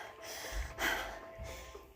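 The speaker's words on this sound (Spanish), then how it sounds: "Jadeó y empezó a respirar entrecortadamente." Gasping, ragged breathing from a woman waking drugged and unable to move her legs: a sharp intake near the middle, then uneven, strained breaths close up and fairly quiet.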